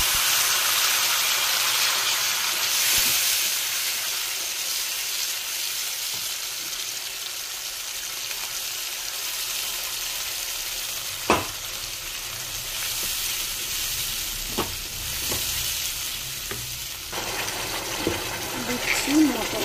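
Ground spice paste hits hot ghee and mustard oil in a pan and sizzles in a steady, loud hiss that carries on throughout, with a few clinks of utensils and some talking over it.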